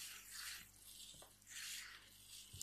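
Water pours into a plant pot while a watermelon seedling is watered in after repotting, coming as two soft, hissing splashing bursts with a brief knock between them, close and fairly quiet.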